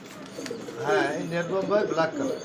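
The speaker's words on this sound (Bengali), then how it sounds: "দেখার মতো বোম্বাই কবুতর দেখছেন" Soft, throaty Bombay pigeon coos sound close by in a short burst, repeating in low warbling phrases.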